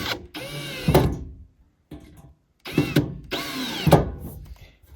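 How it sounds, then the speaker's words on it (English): A power drill snugging sheet metal screws into a propane wall heater mount at a cabin, running in two short bursts of whirring with a pause between them, close and fairly loud. "we'll snug them up with the drill."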